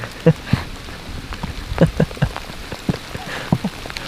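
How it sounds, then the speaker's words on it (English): A fine mix of sleet or hail falls on surfaces outdoors during a spring turkey hunt, with scattered, irregular light ticks and taps close by against a quiet background. "What is this snow or hail? What are we getting hit with here? Fine mix."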